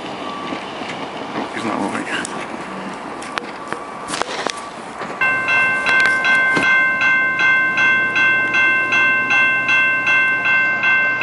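A CN freight train passes the St Lambert, Quebec railroad crossing with loud rumbling and clatter. Partway through, crossing bells start a steady repeating ding, and a voice speaks briefly early on.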